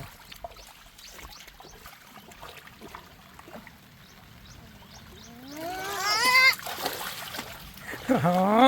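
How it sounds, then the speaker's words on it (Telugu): Floodwater rushes hard through a village after a violent overnight storm, a steady churning wash heard close by. Voices talk excitedly over the water in the second half. "నీళ్ళు చూడు ఎంత ఫోర్స్గా పోతున్నాయా."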